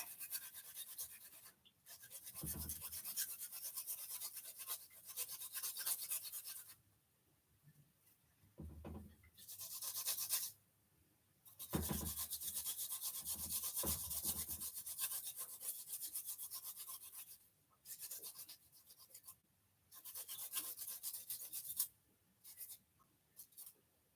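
Fresh ginger being grated by hand in a home kitchen: long stretches of steady, close scraping strokes broken by short pauses, with no talking.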